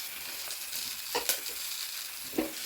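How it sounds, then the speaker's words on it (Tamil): Fenugreek seeds frying in hot oil for fenugreek rice give a steady soft sizzle, broken by a few brief stirring scrapes near the middle and end. "இந்த வெந்தயம் நல்லா பொரிஞ்சு நல்ல மணம் வரும்"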